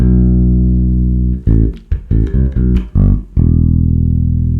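A bass guitar plays a bass line in standard tuning, a sustained low note followed by a rhythmic run of short plucked notes, then another held note, loud and close.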